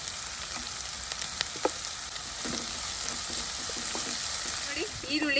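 Onions frying in a pan for prawn dum biryani, a continuous close sizzle with scattered light stirring scrapes and clicks; soft voices murmur briefly under the hiss near the end.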